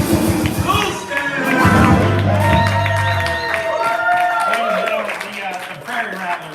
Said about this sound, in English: give me a big round of applause for this kid